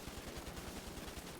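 A short rapid burst of micro SMG fire in the video game GTA V, quick repeated shots over about a second and a half, fairly faint, with no talking.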